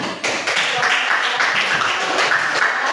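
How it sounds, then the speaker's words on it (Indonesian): A classroom group breaks into applause at the end of a presentation, a few seconds of dense, fairly loud clapping from many hands, close by and continuous. "kita berikan tepuk tangan"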